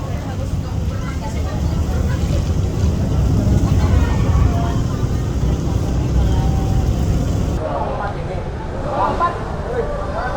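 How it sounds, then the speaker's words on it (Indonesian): A Merak–Bakauheni ferry docks at Bakauheni port. Its engines give a steady, broad rumble, and the brighter noise drops away abruptly near the end, with voices murmuring underneath. "Untuk proses sandar, kapal ini membutuhkan waktu sekitar 10-15 menit sampai kita bisa benar-benar turun"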